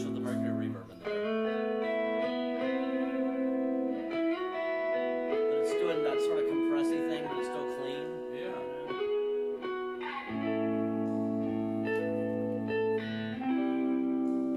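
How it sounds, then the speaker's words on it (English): A music demo with layered guitar-like tones and a lush, washy reverb tail, sustained notes blurring into echoing space throughout. "a touch of the Mercury reverb in there"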